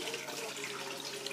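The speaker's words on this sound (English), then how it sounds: "So you're going to pour off the water." Soaking water poured off chickpeas sprouting in a jar, a steady close trickle of splashing water running without a break, with no voices.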